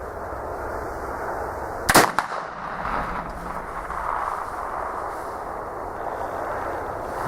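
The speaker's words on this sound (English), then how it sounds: "This gun's actually quite comfy to shoot." A single loud, sharp gunshot from a muzzleloader loaded with Yukon Gold powder cracks out close by, followed by a brief rumbling echo and then quiet outdoor background.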